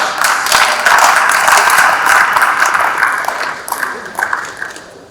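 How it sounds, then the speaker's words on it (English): Steady applause from an audience at a tour operators' association annual general meeting in Akure, Nigeria, a dense sustained wash of clapping that thins slightly toward the end. "Please clap."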